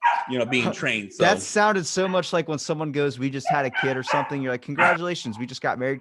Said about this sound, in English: excuse the dog bark